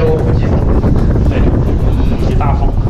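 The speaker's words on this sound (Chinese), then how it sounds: "看 这个风啊，呼呼的吹啊" Strong wind roars through a narrow section of a cave, a loud, continuous buffeting rush close to the microphone, with a voice partly mixed in.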